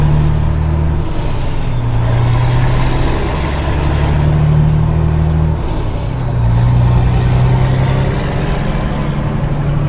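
A car travels along a road at night with a loud, steady engine and road drone from inside the cabin, its low hum rising and falling slightly as speed changes, and no talking.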